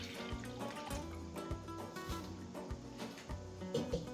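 Half a litre of milk pours into a container to make Tunisian cream, a brief close liquid stream with a rising fill sound and light gurgles, heard alone.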